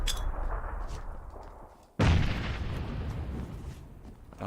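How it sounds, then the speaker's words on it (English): A grenade in the battle royale game PUBG goes off in a sudden loud boom with a long rumbling decay, following a low continuous roar of gameplay noise and no talking. "I'm gonna throw some grenades to that."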